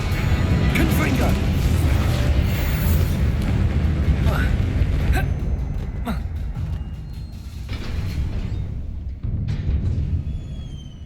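Confringo blasting-spell explosions in Hogwarts Legacy come as heavy, booming rumbles with sharp cracks scattered through a dense, loud battle din, while a voice speaks over parts of it.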